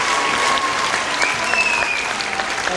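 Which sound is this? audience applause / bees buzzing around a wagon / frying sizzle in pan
audience applause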